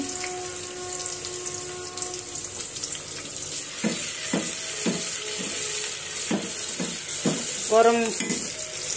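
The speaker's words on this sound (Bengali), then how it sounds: "তো তেল দিছি, এখন পেঁয়াজ দিয়ে দিব। পেঁয়াজ দিয়ে দিলাম।" Onions sizzle in hot oil in a pan over a gas flame. A steady, close hiss swells partway through, broken by several sharp scraping and clinking stirs near the end.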